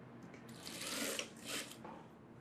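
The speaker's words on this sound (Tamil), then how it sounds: "இப்போது இந்த ஃப்ரின்சஸ் கட்டிங்கை போட போகிறேன், தைக்க போகிறேன்." A sewing machine runs in a short burst while stitching fringe trim onto a blouse, its quick mechanical whir rising and easing over a couple of seconds, fairly close and alone.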